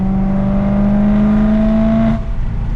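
A BMW M3 exhaust drones loudly and close, holding a steady engine note that climbs slightly in pitch before cutting off abruptly and dropping to a lower rumble.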